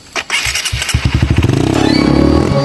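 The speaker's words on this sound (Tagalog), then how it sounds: "klaro ning mga motor diri oy" A motorcycle engine starts with a few sputtering cranks, then settles into a loud, close, rapid idle that steadily quickens and smooths out.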